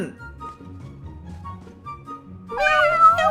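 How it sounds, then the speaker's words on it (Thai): A pet cat in the PUBG Mobile video game meows loudly in a cluster of high, wavering calls near the end, after a stretch of quieter in-game background sound. "เฮ้ยเปลี่ยนเป็นน้องแมวบ้างดีกว่ารอบนี้ มา เจ้าแมว มาบ้างน้องแมว"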